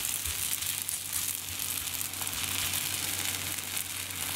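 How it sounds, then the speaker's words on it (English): A disc of dough sizzles steadily in hot oil in a pan, a constant soft frying hiss with faint crackles and no talking. "When the pan is hot, you can put some oil like that. And you can take the first disc."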